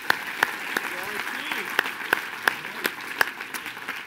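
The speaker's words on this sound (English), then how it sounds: "Let's give Ryan a big round of applause." An audience claps in a steady round of applause, with several sharper individual claps standing out near the front and a faint voice underneath.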